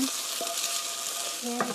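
Starch-coated pork tenderloin pieces sizzle and crackle steadily in a hot pan for sweet and sour pork, with a constant hiss and a few faint clinks of utensils.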